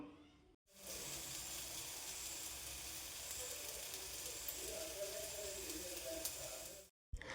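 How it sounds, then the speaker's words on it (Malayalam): Okra fries in coconut oil as a close, continuous sizzling hiss that begins abruptly after a short silence and cuts off near the end. "ഇനി നമുക്കിത് ഈ വെളിച്ചെണ്ണയിൽ ഇട്ടിട്ട് നന്നായിട്ടൊന്ന് മൂപ്പിച്ചെടുക്കണം."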